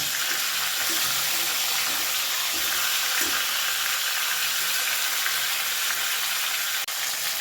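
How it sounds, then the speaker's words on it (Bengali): Fish heads frying in hot oil in a pan, a steady close hiss and sizzle running throughout with a few faint crackles, no talk. "মাছের মাথাগুলো কিন্তু খুব ভালো করে লাল করে ভেজে নিতে হবে"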